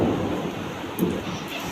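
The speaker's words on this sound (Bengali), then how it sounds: "বাপরে কি মেঘ ডাকছে বাইরে।" Low rumbling thunder from a storm outdoors, a steady broad roar with a slightly louder swell near the middle, mixed with a faint rainy hiss.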